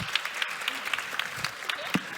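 A conference audience at a talk on web accessibility gives a short round of clapping, scattered individual claps rather than a full dense roar, moderately distant.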